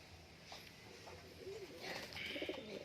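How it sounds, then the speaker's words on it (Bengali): Pigeons in a loft, including Lotan pigeons, give soft, faint cooing calls with a few light chirps, set back in a low, steady background hum. "আরও পায়রা রয়েছে সব খাঁচার ভেতরে,"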